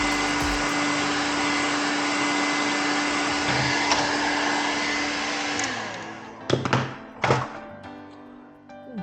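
A heat gun warms the front tank guard of a 3D-printed 1:10 scale Sherman tank model, blowing a steady, close roar for about six seconds before cutting off, followed by a couple of sharp knocks.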